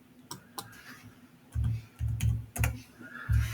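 Computer keyboard typing during CAD modelling work: a few sharp, scattered key clicks at first, then heavier, duller keystrokes in short irregular bursts, close and fairly quiet.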